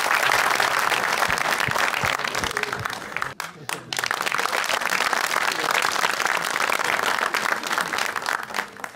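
A comedy show audience applauds to welcome a performer onto the stage, with sustained crowd clapping that briefly dips near the middle, then swells again and carries on steadily.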